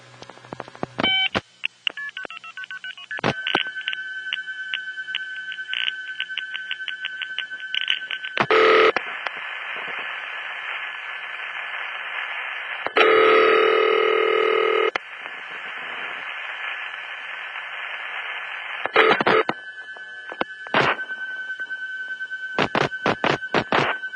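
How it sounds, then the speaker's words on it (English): Vintage telephone test line signaling: bursts of multi-frequency tones followed by long steady revertive pulsing tones, with clicks and gaps between segments, loud and clear with no talk. "The multi-frequency tones are followed by revertive pulsing, another inter-office signaling method"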